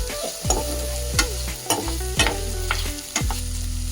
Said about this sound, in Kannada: ಈಗ ಆನಿಯನ್ ಹಾಕ್ತಾ ಇದ್ದೇನೆ.